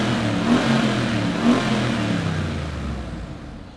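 A Mercedes G63 engine revs up twice in short surges in a car park, then settles and fades toward idle, close and fairly loud with no talking.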